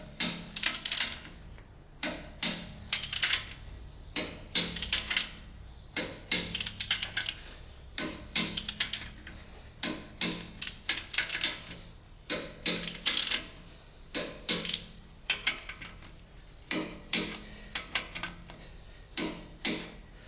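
Torque wrench tightening bolts on an Isuzu 4HK1 diesel engine during assembly, sharp clicking ratchet strokes in repeated bursts with short pauses, close and fairly quiet, no talk.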